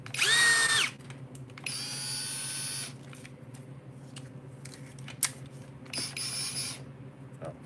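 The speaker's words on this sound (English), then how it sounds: "Drill, driver." A cordless drill driver whirs in short bursts, a high-pitched motor spinning up for about a second, then a longer run, then another brief burst, close by with quiet pauses between.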